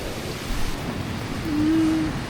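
Water of a stream flowing in winter, a steady broad rush close by outdoors, with no talking.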